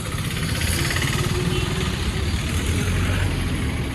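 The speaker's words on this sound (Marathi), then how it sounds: "ब्रिजचं काम चालू आहे त्याच्यामुळे ट्रॅफिक खूप आहे ते बघा" Road traffic rumbles near a bridge construction site, a dense steady drone of engines with idling vehicles close by, loud and unbroken for a few seconds.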